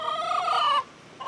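Chickens near a chicken coop give loud, close clucks and squawks in one sustained burst, a brief gap, then another call starting.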